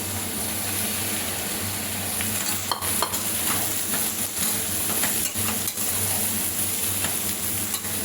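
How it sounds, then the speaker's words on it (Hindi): Chopped vegetables sizzle in a hot pan for pulao while being stirred, giving a continuous loud frying hiss broken by scraping stir strokes and light clatter. "अब इसमें मैंने जो वेजिटेबल चॉप किए थे, अब इसको इसमें हम ऐड करेंगे।"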